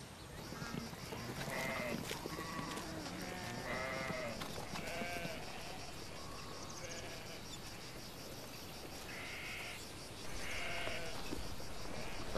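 Several sheep bleat repeatedly, some near and some farther off, over a steady outdoor background hiss.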